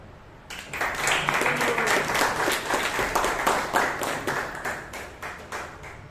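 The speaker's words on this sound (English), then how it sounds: "can we have a huge round of applause for the general evaluator for the day" Applause from the audience at a Bangalore Toastmasters meeting: a sustained wash of many hands clapping, rising quickly, holding steady, then thinning out toward the end, with no talk over it.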